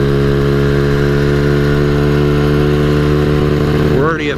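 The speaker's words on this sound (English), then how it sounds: "what it does is it starts cutting out the engine" A custom Honda Ruckus scooter engine drones loudly and steadily at speed on a downhill stretch, a constant harmonic hum that shifts and wavers near the end as it begins to cut out.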